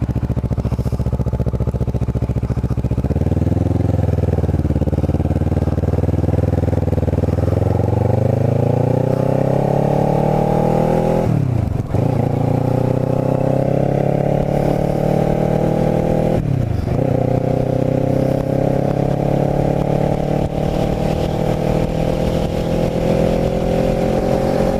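A Kawasaki Ninja motorcycle rides along roads in Cumberland County, its engine droning loudly and steadily, pitch climbing through the gears with brief dips at each shift, plus constant wind rush.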